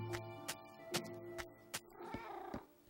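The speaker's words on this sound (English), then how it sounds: "I think that's a cat just making stupid noises" A Minecraft cat makes short, faint meows and cries in a dark jungle, several brief calls spaced irregularly over a soft tonal game background hum.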